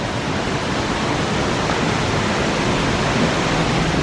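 Small waterfalls spill into a deep pool cut from rock in an Ithaca, New York gorge, giving a loud, steady, broadband rush of water with no talk.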